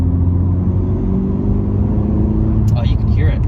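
A 2020 Honda Civic Si's turbocharged engine builds a steady low rumble while accelerating, heard from inside the car, loud and continuous, with a voice speaking over it near the end.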